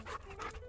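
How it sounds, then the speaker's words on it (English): Close, steady panting from a dog at training time, rapid rhythmic breaths running through the whole short stretch with no talking over it. "You are just one lazy, good-for-nothing dog."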